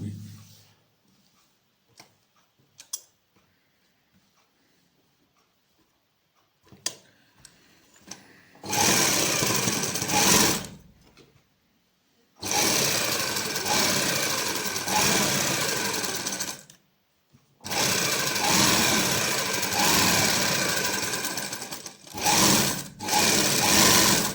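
A sewing machine stitches a sleeve for a Pakistani-style suit, running in several long, loud bursts separated by short pauses, with faint handling noises and a little quiet talk at the start.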